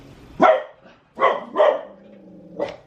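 A dog barks at a passing dog and person, sounding three sharp, loud barks close by, followed after a pause by a fourth, softer bark with a low growl between them.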